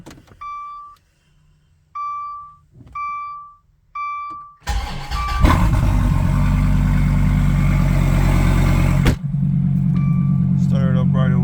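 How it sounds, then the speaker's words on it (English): A 2016 Dodge Viper cold start: a series of warning chimes, then the engine fires with a loud roar that settles into a heavy, rumbling idle. "I'm deciding to give this Viper a cold start and quick walk around"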